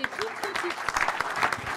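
Audience applause at a Club Drôme sports club presentation evening in 2016, a dense continuous patter of many hands with a few voices talking over it.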